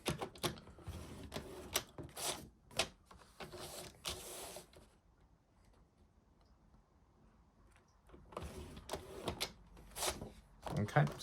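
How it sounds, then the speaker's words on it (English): Paper scored with a craft trimmer for a fold-flat gift box: a run of sharp clicking and sliding strokes, close and fairly loud, pausing to a quiet stretch midway before another burst of scoring, with a voice talking over parts of it. "that's all the scoring done with the trimmer"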